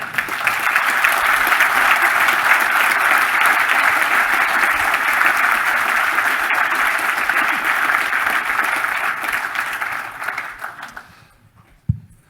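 Loud, sustained applause from a conference audience after a technical talk, holding steady for about ten seconds before fading out, with one sharp thump near the end.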